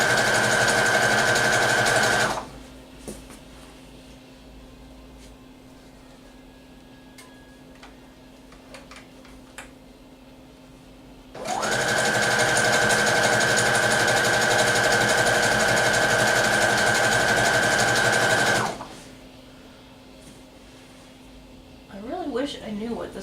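A sewing machine stitching stretchy material, running in two loud, steady whirring bursts of several seconds each with quieter pauses between them.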